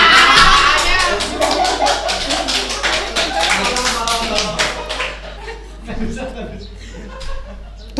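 A small audience claps along in a podcast studio, sharp distinct hand claps in a quick loose rhythm, mixed with laughter and voices, fading out after a few seconds.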